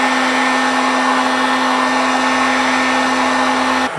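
A heat gun blows hot air along the sight channel of a Kydex holster for a TLR8sub light, a steady loud whooshing roar with a faint hum that runs without a break and cuts off just before the end.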